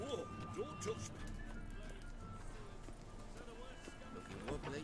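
Horse hooves clip-clop in the video game The Witcher 3: Wild Hunt on a city street in Novigrad, a steady trot under crowd chatter and voices talking.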